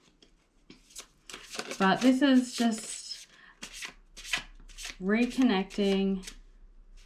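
Tarot cards are shuffled messily in the hands, giving soft, repeated riffling and rubbing, interleaved with someone talking close to the microphone.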